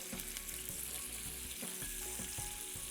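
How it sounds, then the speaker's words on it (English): Lobster sizzling and frying in a pan with butter, garlic, curry leaves and black pepper, a steady close crackle with a few stirring clatters and no talk. "as lobster is frying"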